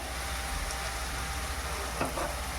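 Onion paste frying with ginger paste just added gives a steady, close, even sizzle with a faint stir near the end and no talking.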